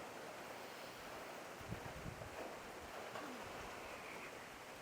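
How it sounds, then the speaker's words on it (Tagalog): Steady roaring wind with gusty rushes, a broad noisy wash like surf, with no voices. "Sobrang lakas ng hangin."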